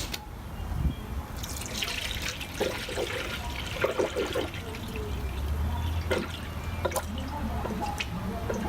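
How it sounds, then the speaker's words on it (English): Coolant poured into a car radiator during cooling system upgrades, with a steady liquid trickle and dripping that runs through the whole stretch, plus occasional small clunks and splashes. "I'm just gonna start filling the radiator"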